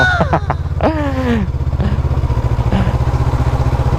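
A big-bike motorcycle idles nearby on a farm campsite, its low engine pulsing in a steady, even rhythm throughout, with a voice speaking briefly over it at the start.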